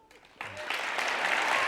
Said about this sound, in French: Applaudissements pour mon nez.